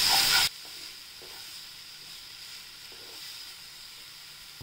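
Red chili powder, turmeric, coriander powder and garam masala sizzle softly in a pan over a low flame, a steady gentle hiss after a brief louder burst at the start.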